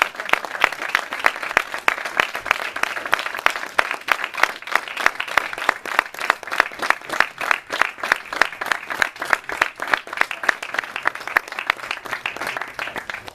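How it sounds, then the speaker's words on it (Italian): An indoor crowd applauds a junior football player at a team gathering, a sustained round of rhythmic, fairly even clapping from many hands lasting over ten seconds, with no talk over it. "Facciamo un applauso a Ravelli Tommaso,"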